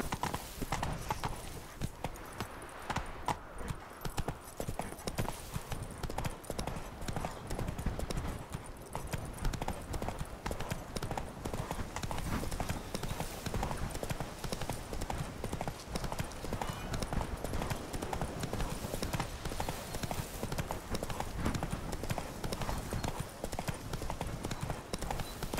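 Roach, a horse in The Witcher 3, gallops with continuous rapid hoof clip-clops, steady and fairly close, with faint voices now and then underneath.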